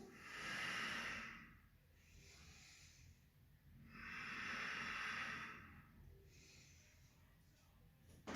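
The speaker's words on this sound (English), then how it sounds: "Breathe." Slow, deep yogic breathing during a hip-opening flow in warrior poses: two long, airy inhale-exhale cycles with soft hiss at each peak, close and quiet with no voices.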